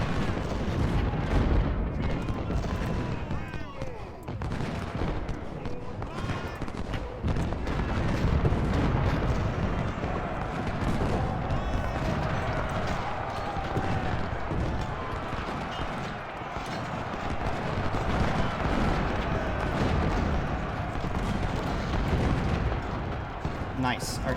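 Cannon fire and shell explosions from an Ultimate General: Civil War battle at Cold Harbor roll on continuously, dense booms and rumbling blasts layered thickly for the whole stretch, with a voice talking over parts of it.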